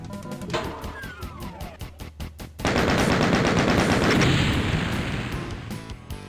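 Rapid bursts of gunfire in the original Doom, a fast rattling volley followed by a loud sustained roar of continuous shooting and blasts, close and dense with no talk.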